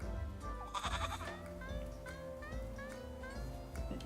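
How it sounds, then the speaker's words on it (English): A goat bleats repeatedly in a Little Goody Two Shoes game scene, with several wavering, nasal calls spread across the clip over a steady low background hum. "I'm not jealous of a goat."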